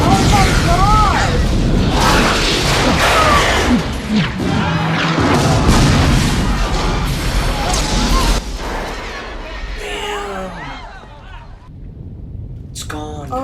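A large machine in a science-fiction film blows apart with heavy booms and crashing debris, loud and sustained for several seconds, while people gasp and exclaim over it in a room.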